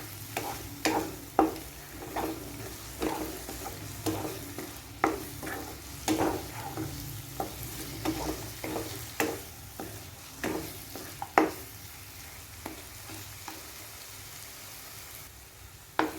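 A spoon or spatula stirs pumpkin halwa mixed with fried cashews in a pan, producing repeated scraping strokes in an uneven rhythm over a soft background sizzle, close and moderately loud, with no voices.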